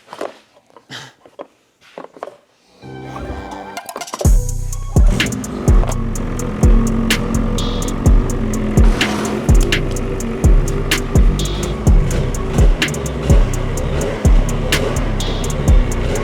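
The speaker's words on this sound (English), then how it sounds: "You're gonna have to pull start it" 2026 Ski-Doo MXZ X-RS 850 Turbo snowmobile with Competition Package being pull-started: a few short, sharp cord tugs, then the engine catches and runs loud and close with a fast, throbbing rhythm.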